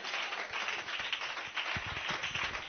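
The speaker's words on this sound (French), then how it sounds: "Donnez-lui des mains d'acclamation." A church congregation claps at a French-language sermon, with a steady wash of fairly faint applause that continues throughout.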